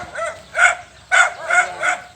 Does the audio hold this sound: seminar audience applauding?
no